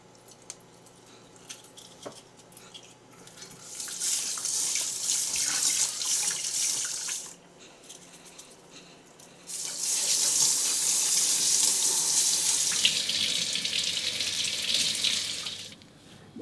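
Tap water runs steadily into a sink while a tilapia is washed, a continuous hissing splash that cuts off briefly midway and then resumes stronger, close by and with no talking.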